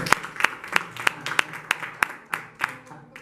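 A church congregation in Panama, at Arca de la Salvación, claps in a steady, even rhythm, about ten sharp claps in three seconds, close and clear with no talking.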